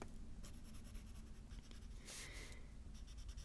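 Colored pencil scratching on a wood surface while laying down espresso-brown color, with quiet, steady strokes and a brighter, scratchier burst partway through; no talking.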